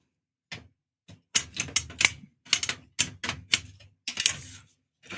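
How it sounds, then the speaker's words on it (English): Big metal plates of a 1:1 scale Fanhome Infinity Gauntlet model clank and knock against each other during fitting, a run of sharp, close metallic clacks in irregular bursts with short pauses between them. "making a lot of noise doing it because it's all big metal plates"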